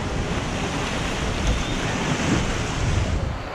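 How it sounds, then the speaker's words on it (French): Steady rushing water and wind noise on a tub-shaped rafting ride at the Tripsdrill amusement park, a dense continuous wash of splashing with slight surges and no speech. "L'eau vient par le haut."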